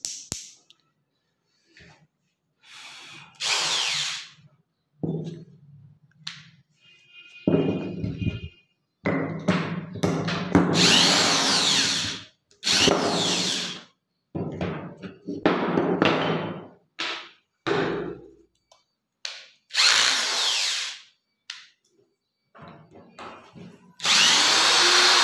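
An electric hammer drill with adjustable gear settings driving screws, repeated bursts of whirring motor with starts and stops, close and loud, separated by brief pauses and clicks.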